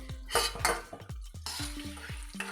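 Amla gooseberries frying in a pan with oil, a spoon repeatedly scraping and knocking against the metal in quick strokes over a continuous sizzle, close up.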